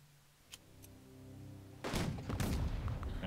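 Naval gunfire support in the Unity of Command II strategy game: a faint tone and a couple of soft clicks, then heavy booming impacts and rumbling blasts fill the second half, loud and dense.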